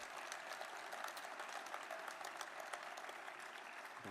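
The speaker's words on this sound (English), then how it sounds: "Please give them a round of applause and thank them as well." Audience applause at a Salt Lake Olympic Committee event unveiling the 2034 Winter Games logo, a continuous wash of clapping from a crowd, quite faint and distant and steady throughout.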